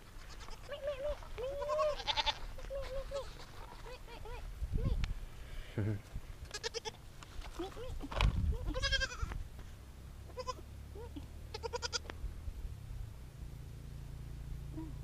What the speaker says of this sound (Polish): Nie ma to jak kozy odwiedzić, słuchajcie.